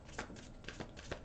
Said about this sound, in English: one more little shuffle here for Geminis for March